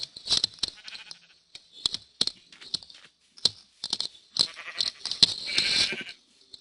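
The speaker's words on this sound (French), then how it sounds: "Je sais qu'il y a un mouton." Short, sharp clicks and brief bleats of a sheep in a Minecraft-style video game come in irregular bursts, with a denser, louder stretch near the end; the sounds have a synthetic, game-like quality.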